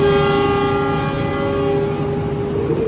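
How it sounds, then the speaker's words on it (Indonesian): The Argo Muria train sounds a long, steady, loud horn as it departs Bekasi station. The tone holds unbroken for the whole moment with no voices. "kereta api Argo Muria diberangkatkan terlebih dahulu dari stasiun Bekasi."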